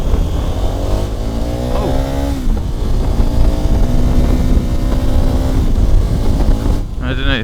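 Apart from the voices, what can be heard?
KTM 1290 Super Adventure motorcycle engine accelerating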